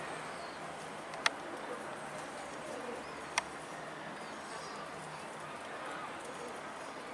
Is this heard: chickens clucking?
no